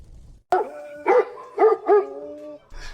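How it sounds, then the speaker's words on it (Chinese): A dog barks fiercely outdoors at night near a fish farm, several loud, harsh barks in a quick irregular burst, close and clear with no talking over it. "谁家的狗叫这么凶？"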